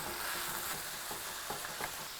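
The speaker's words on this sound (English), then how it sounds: "Now we add in a pound of ground beef." A pound of ground beef sizzling and frying in a pan with tomato paste, a steady dense hiss with faint stirring scrapes and no talking.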